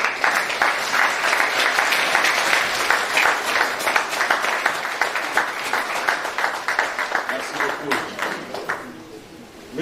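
Sustained audience applause at the launch ceremony of the second Malian Justice Week, steady dense clapping from a large crowd that continues for several seconds and then thins out toward the end.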